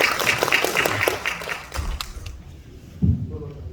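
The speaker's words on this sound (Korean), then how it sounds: "우리 선배님께 박수 한번 드리겠습니다." Audience clapping at a Korean book launch event, a burst of dense applause that fades out halfway, followed by a couple of soft thumps and some quiet murmur.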